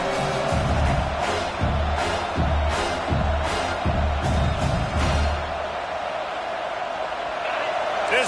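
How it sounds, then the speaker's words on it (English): A college football stadium crowd keeps up a steady, dense roar of noise with no break, while a voice talks over it throughout. "This crowd trying to make life miserable for this offense."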